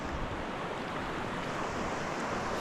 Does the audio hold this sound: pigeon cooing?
no